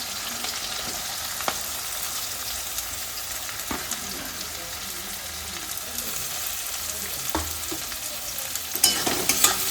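Chopped onions fry in hot oil in a home kitchen pan, a steady crackling sizzle with occasional sharp stirring clicks and a few louder spatters near the end.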